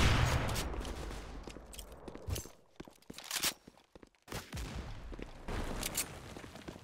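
Gunfire bursts from a competitive tactical shooter game, a scout sniper rifle against AK rifles, cracking in a few sharp shots with footsteps and movement between them, close and fairly loud.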